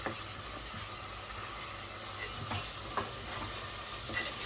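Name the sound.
ginger garlic paste frying in pan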